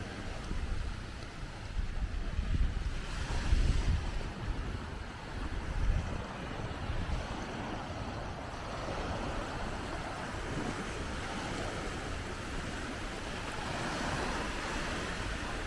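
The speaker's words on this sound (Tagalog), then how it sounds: "Nice waves." Ocean waves break on the shore at a resort beach in Subic, Zambales, Philippines, a steady broad wash of surf with swells around the start, mixed with wind buffeting the microphone.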